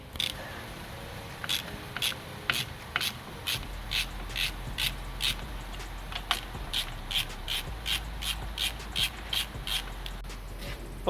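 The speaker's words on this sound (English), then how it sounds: "12 milli socket, ratchet, and basically we're going to take it off." A hand ratchet with a 12 mm socket loosening brake caliper bolts on a Fiat 500 front brake: regular short clicking strokes repeat steadily, close and fairly quiet, with a low background hum.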